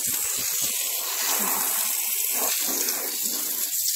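Strong, steady water jet from a hose or tap, a loud continuous hiss and splash running throughout with small fluctuations, no talk over it.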